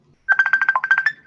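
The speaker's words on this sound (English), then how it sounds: "Can you silence your phone or something, Kim?" A phone ringtone chirps in a rapid run of about a dozen evenly spaced electronic beeps, loud and close, breaking into a Zoom knitting class on earflap hats and balaclavas.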